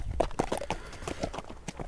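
A big, muscular horse of the kind raced in ulak goat-dragging games clip-clops with quick, close hoofbeats in an uneven rhythm.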